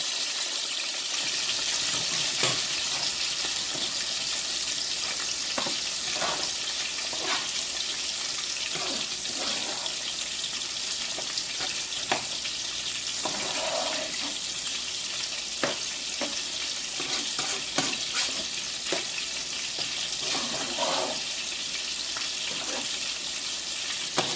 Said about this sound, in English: Just let them fry slow.